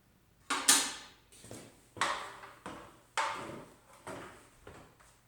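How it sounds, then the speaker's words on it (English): Set screws being tightened on a garage door cable drum, heard as a run of sharp metallic clacks and ratcheting scrapes, each fading quickly, in a quiet space. "I'm going to tighten back up my set screws."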